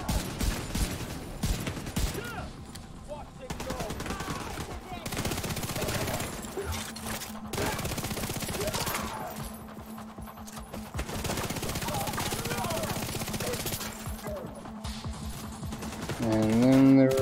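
Rapid automatic gunfire and scattered shots from a modern shooter video game ring out in dense, loud bursts for most of the stretch, with a brief lull midway and a louder blast at the end.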